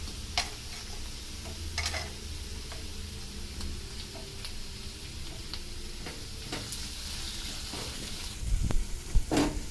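Sliced tomato sautés in a pan with onions for a pink perch fish fry masala, giving a low continuous sizzle broken by light scrapes and taps of a stirring spoon, with louder clatter near the end.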